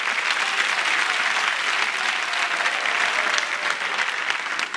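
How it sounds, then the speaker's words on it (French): A comedy show audience applauds a comedian's cousin with steady, dense clapping from a large crowd that fills the whole stretch at an even level, with no talk on top. "On applaudit pour mon cousin."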